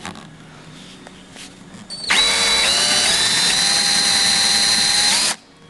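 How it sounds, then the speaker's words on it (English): A power drill bores into a cone thread stand built from upcycled supplies, starting with a loud steady whine after a quiet lead-in, running at a constant pitch for about three seconds and then cutting off sharply. "And drill down a ways, but try not to go all the way through it."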